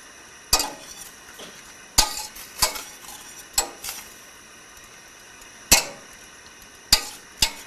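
Spinach being stirred into mushroom soup in a pan, heard as sharp intermittent clinks and scrapes of a utensil against the pan, spaced irregularly over a quiet background.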